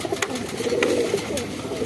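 Shahjahanpuri pigeons coo softly in a pair at close range, a low murmuring warble with a few sharp clicks and rustles around it and no voices over it.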